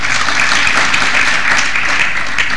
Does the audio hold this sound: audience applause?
yes